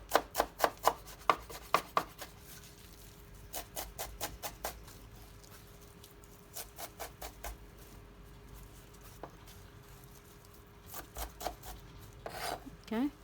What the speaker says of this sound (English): to chop some fresh parsley here and just decorate the top of the Maklouba